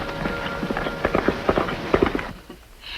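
Horse hooves clip-clop at a steady walking rhythm in a radio drama, clear repeated hoofbeats that fade out near the end, with no talking over them.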